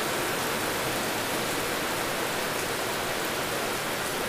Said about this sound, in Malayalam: പുറത്ത് നല്ല മഴ ഉണ്ട്, അതാണ് വീഡിയോയിൽ സൗണ്ട്.